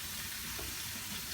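Pork loin searing in olive oil, a steady dense sizzle that holds even and fairly quiet throughout, with no talk over it.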